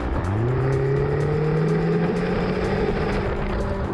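Engine growl from a 2023 BMW XM rises steadily as the SUV accelerates, a loud, close, continuous climbing drone over about four seconds with no voices.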